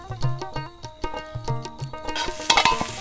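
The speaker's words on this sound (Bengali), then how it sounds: "ভালো করে জাল দাও, এই করো নাড়া দাও তো দেখি" Dhenki greens being stirred in a pan, rhythmic scraping strokes repeating about every half second, with a soft sizzle building toward the end and no one talking.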